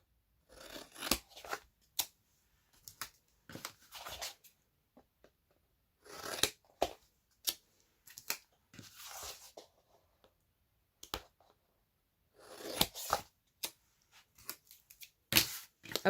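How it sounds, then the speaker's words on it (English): Scissors snip crisp paper corners off a mini album cover in short bursts of quick cuts, separated by brief silences and small paper rustles, close and fairly quiet. "we're going to go ahead and trim these off, leaving about 1/8 of an inch away from the corner"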